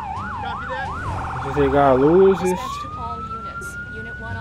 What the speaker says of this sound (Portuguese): Vamos desligar a sirene.